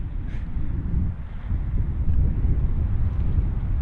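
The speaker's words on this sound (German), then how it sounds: "Ein bisschen windig" Steady wind buffets the microphone with a low, constant rumble among juniper bushes near Helsingborg, Sweden, gusting slightly louder partway through, with no voices.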